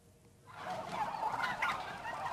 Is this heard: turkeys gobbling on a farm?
yes